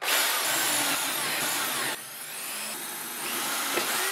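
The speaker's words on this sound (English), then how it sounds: "testing if they work. Drill." Repaired power drill running steadily at high speed, a close, loud, continuous whine with a slight dip in pitch midway.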